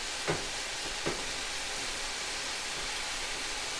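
Chicken and steak fajita meat sizzles steadily in a hot pan, a constant hiss with two brief scraping clicks early on as the strips are stirred, no voices.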